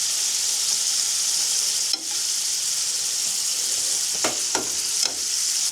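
Burger patties sizzle loudly and steadily in a pan inside a frozen canvas tent, with a few soft scrapes and taps near the end as a fork pushes them around.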